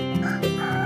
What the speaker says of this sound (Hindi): हर रोज सवेरे मुर्गे के कुकड़कू बोलते समय ही जाग जाते थे।